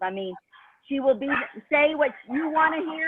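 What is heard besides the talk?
dogs barking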